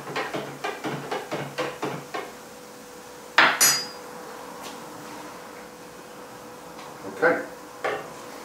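Chicken soup stirred in a metal pot, a quick series of rhythmic spoon clinks against the pan, followed by louder clatters of utensils and a couple of later knocks, close, with someone talking briefly.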